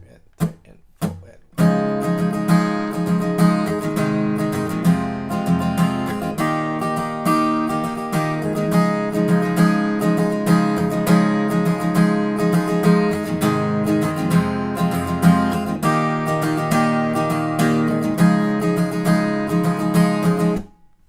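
Acoustic guitar strums through a simple four-chord pop progression from Justin Bieber's What Do You Mean, in a steady rhythmic pattern after a brief count-in pause, close and clear, playing alone for about twenty seconds before stopping.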